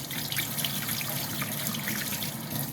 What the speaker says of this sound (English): I use water to wash it off.